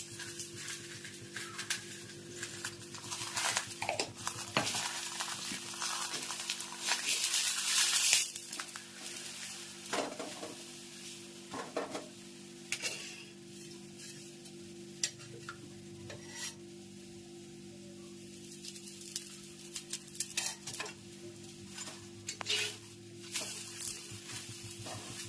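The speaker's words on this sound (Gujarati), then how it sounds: "શેકાય થેપલા જોઈ શકો છો" Thepla flatbread roasts on a hot pan with a steady, close sizzle, stirring and scraping sounds, and a brief louder burst partway through; no one speaks.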